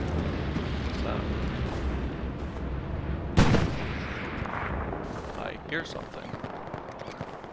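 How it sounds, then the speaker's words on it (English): A tank firing in Hell Let Loose, a single sharp distant boom in the middle amid ongoing battlefield rumble and scattered smaller shots, with people talking over it. "Sounds like a tank firing."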